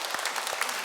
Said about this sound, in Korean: 박수를 받습니다